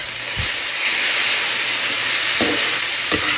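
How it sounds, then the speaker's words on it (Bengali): Ginger, cumin, chilli and coriander powder masala frying in a pan, a steady close hiss and sizzle with a few brief stirring scrapes, no talk. "ভালো করে মশলাটা এবার কষিয়ে নেব"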